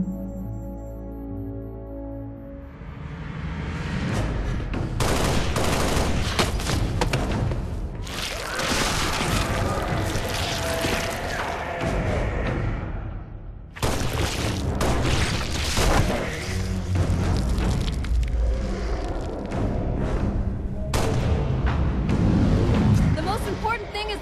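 Loud, dense action-film battle scene with booms and gunfire bursting over a continuous music-and-effects bed, broken by a brief lull before the barrage resumes, with voices occasionally under the noise.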